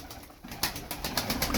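Tumbler pigeons coo softly and steadily close by, a low, rolling murmur repeated over and over with no talk.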